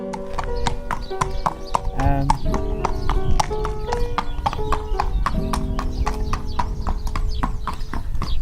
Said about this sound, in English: that's a hoofs of a racehorse